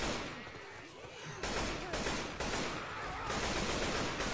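Gunfire in a video game crackles in dense, continuous bursts at moderate level, the shooting intensifying in waves over a few seconds with no clear talk.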